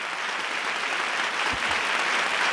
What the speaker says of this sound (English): give the Lowrey premiere a big round of applause